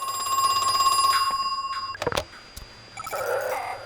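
Telephone ringing in the horror video game Crow Country: a few bright electronic rings, then a sharp click and faint electronic tones, with no voices.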